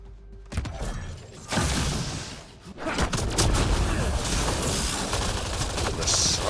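An assault turret firing in Mass Effect Andromeda, sustained loud rattling fire amid combat noise and explosions, close and dense.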